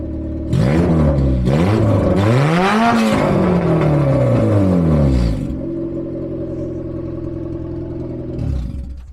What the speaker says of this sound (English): we're gonna give it a quick few revs and see what it sounds like